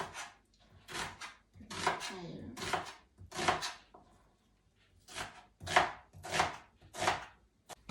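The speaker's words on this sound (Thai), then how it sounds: "แล้วก็หั่นแบบนี้ค่ะ" A knife chops ingredients for a Thai pork sausage salad on a board in quick bursts of sharp cuts separated by short pauses, close and clear, with a little talking in between.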